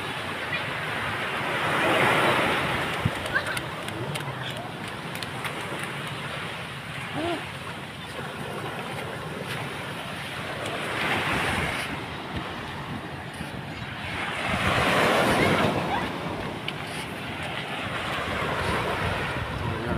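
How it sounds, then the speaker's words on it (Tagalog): Sea waves roll in at Sipalay Beach, a steady surf wash with swells building and easing every few seconds, mixed with gusty wind buffeting the microphone. "Ang sa dagat, guys."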